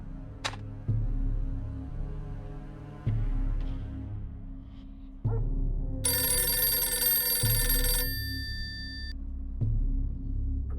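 Telephone ringing in the Dracula 3: The Path of the Dragon video game, a burst of bright electronic bell tones lasting about two seconds over a steady low music bed, with no voices.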